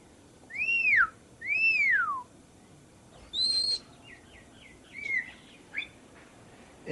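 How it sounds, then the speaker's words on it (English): Birds in the Karmapa's aviary give clear whistled calls: two falling, slurred whistles, then a higher note and a few softer chirps, spaced by short quiet pauses. "He's seen here in the Karmapa's aviary"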